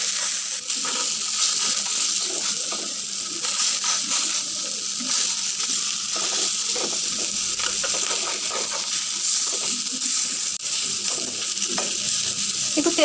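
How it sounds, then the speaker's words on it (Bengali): Garlic and fish fry in mustard oil in a pan, with a constant loud sizzle and hiss and intermittent scraping as the pieces are stirred and turned, with no talking. "রসুন কিন্তু এক পাশে ভাজা হয়ে গেছে, একটু করে একটু করে সবগুলো একটু নেড়ে নিচ্ছি"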